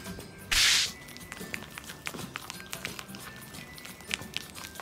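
Face wash foam crackles softly as it is pressed against the skin, faint fizzy pops and crinkles after one brief loud burst of noise near the start.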